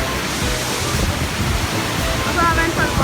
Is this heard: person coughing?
no